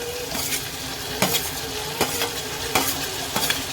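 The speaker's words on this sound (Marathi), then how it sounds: "टोमॅटो असं छान परतून घेऊया." Tomatoes frying in a pan for chole, with a continuous sizzle and regular spatula scrapes and taps about every second, close and fairly loud, with no speech.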